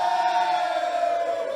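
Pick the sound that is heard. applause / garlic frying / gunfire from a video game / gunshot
applause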